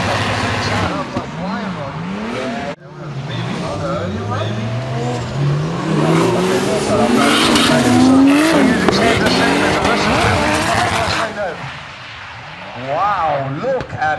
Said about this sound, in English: Opposite drift by Matt, where's he going?